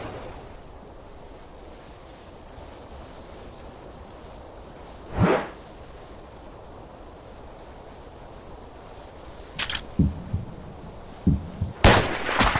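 A sniper rifle gunshot during a hunt: one sharp, loud blast near the middle, then a few more short bursts toward the end, over a steady outdoor background hiss.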